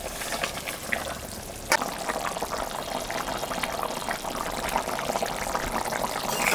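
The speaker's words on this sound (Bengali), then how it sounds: "ঝোলটা ফুটে গেছে এখন আমি মাছটা দিয়ে মাছটা আমি দিয়ে দিলাম" Boal fish pieces are dropped into a pot of boiling curry broth. A soft splash is followed by steady bubbling and sizzling at a moderate, even level.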